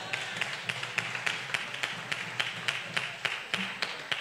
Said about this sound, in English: Now you can clap for that one, yeah?